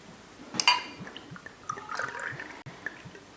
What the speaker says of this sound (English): pour all of your ingredients into the blender